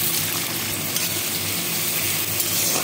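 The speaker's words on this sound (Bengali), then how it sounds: "আলুটা ভাজা ভাজা হবে।" Potato pieces fry in hot ghee in a pan alongside cumin, bay leaf and dried chilli, giving a steady, close, dense sizzle that crackles continuously without a break for the whole stretch, with no talking over it.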